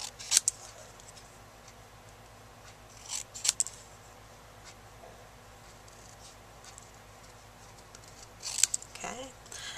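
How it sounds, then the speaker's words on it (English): Scissors snipping paper in small sections around a stamped image for paper piecing, giving a few faint, crisp snips spaced apart in a quiet room. "Always kind of cutting in little sections, not trying to do it in one long cut."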